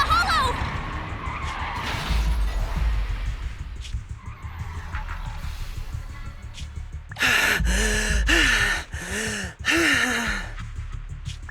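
Car skidding and crashing in the video game Zenless Zone Zero: long tire squeals that rise and fall, then a loud burst of repeated screeching, with engine noise and gasping voices over it.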